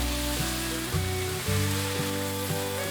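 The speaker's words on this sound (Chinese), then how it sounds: "这时候可以放入金针菇，快速的拌炒。" Enoki mushrooms being quickly stir-fried into a vegetarian dumpling filling produce a continuous sizzle over a steady hum, with some faint tonal background sounds and no voices.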